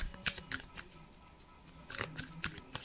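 Tarot cards handled and shuffled up close, with quick papery flicks and slaps in two bursts separated by a brief lull, no voices.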